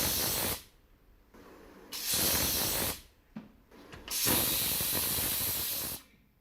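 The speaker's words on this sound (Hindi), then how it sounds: "कुकर की सीटी पे कहाँ डांस होता है यार" Pressure cooker whistle hissing in three loud, steamy bursts of about one to two seconds each, with brief gaps of quieter noise between them and no talking.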